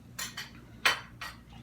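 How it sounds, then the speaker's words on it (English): A metal whisk beats flour into boiling liquid for beef stroganoff gravy, making four or five quick, irregular clinking scrapes against the pan at moderate volume with no talking. "and just whisk, whisk, whisk, whisk, whisk, whisk, whisk"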